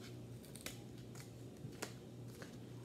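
Large scissors cut through a paper craft mask in a few short, crisp snips spaced apart, heard close and fairly quiet over a low steady hum.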